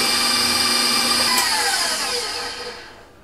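An electric hand mixer beating pumpkin pie filling, a steady high whirring hum that winds down and fades out near the end, close by with no speech.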